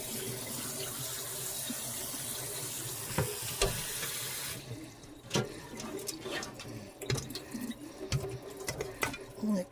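Water from a pot of cooked fettuccine pours and splashes into a kitchen sink for about four and a half seconds, then gives way to softer trickling, dripping and clattering.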